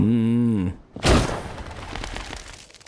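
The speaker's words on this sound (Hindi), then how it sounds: "अरे कहीं से गोली चलने की आवाज आई है, उस तरफ से।" A single sharp gunshot-like bang follows a brief tonal hum, then a decaying rumble and noisy tail.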